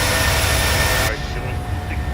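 PMDG 737-700 jet engines roaring steadily in climb after takeoff, a loud broadband rush that cuts abruptly to a quieter, duller drone about halfway through.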